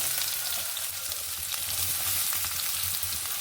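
Onions dropped into hot oil with already-popped mustard seeds for a small-tuber stir-fry sizzle steadily, a dense, even hiss that stays close and constant with no talking.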